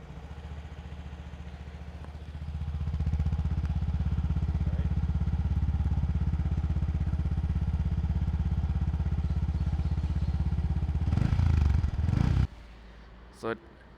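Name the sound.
motorcycle exhaust note after startup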